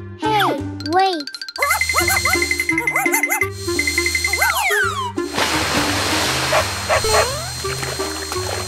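A cartoonish dog in Roblox Brookhaven yips and barks in quick, bouncy bursts over jingly background music, with a voice chattering throughout.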